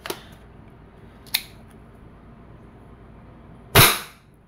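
A Wingun 708 airsoft revolver firing plastic BBs: two sharp snapping shots close by, then a louder, crisper pop a couple of seconds later, each a quick burst against a quiet background.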